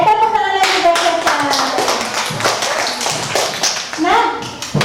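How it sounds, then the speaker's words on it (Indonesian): A school class claps hands together for a pupil, a burst of quick, loud, close claps that runs through the whole moment, with children's and a teacher's voices mixed in at the start and end. "tepuk tangan lagi buat Caca"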